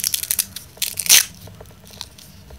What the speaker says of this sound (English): these are the stickers which sits with Velcro